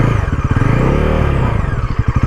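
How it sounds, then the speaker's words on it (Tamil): A 2025 Bajaj NS 400Z motorcycle's exhaust throbs loudly and close, idling with a rapid pulsing beat, rising in a quick rev and falling back to the choppy idle. "இந்த எக்ஸாஸ்ட் நோட்டு கேட்க ஆசைப்பட்டீங்கன்னா உங்களுக்காக ஒரு எக்ஸாஸ்ட் நோட்டு உங்களுக்கு போடுறேன்."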